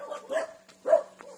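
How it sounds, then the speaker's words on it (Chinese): Dogs bark in a village, two or three quick yaps and a short bark in close succession, moderately loud with a faint background hum. "这一家也有一堆狗绑起来了，你看到我们狗狗就叫呀"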